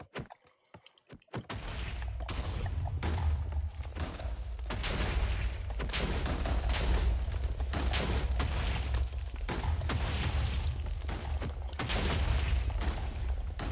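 Dense, continuous booming and crackling blasts from a Minecraft aerial battle, cannon-like shots rapidly overlapping with no clear pauses, loud and sustained throughout.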